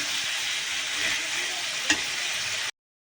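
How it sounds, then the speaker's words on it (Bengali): Potatoes and tomatoes sizzle steadily in hot oil with a little salt, a continuous close frying hiss with one brief clink near the end before it cuts off. "তেলের মধ্যে আমি আলুটা দিয়ে তারপর সব টমেটোটা দিয়ে দিয়েছি আর লবণ দিয়ে দিয়েছি একটু ভাজা ভাজা হবে"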